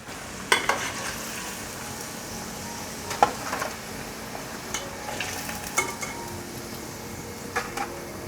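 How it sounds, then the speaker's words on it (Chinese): Vegan tofu and cabbage lion's head balls deep-fry in hot oil over medium-low heat, giving a continuous bubbling sizzle punctuated by scattered clinks and scrapes of utensils against the wok. "第二锅的油温会比较高，所以要转中小火来炸。"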